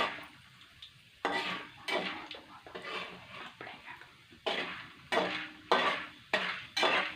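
Popcorn kernels with salt are stirred in a pot, with repeated close scraping and rattling strokes in irregular bursts between quieter pauses.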